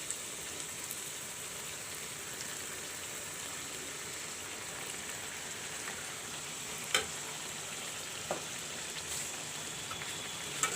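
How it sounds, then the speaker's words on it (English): Mutton and masalas fry together in a covered pan for vindalu, a soft, steady sizzle and crackle with a few faint clinks, alone and fairly quiet. "Cover it up and let the meat and the masalas fry together nicely."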